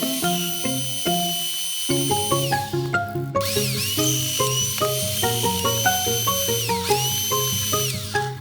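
Personal blender motor pulsing almonds into nut butter: loud, close whining bursts with shifting pitch, starting and stopping repeatedly in a choppy rhythm, no talking.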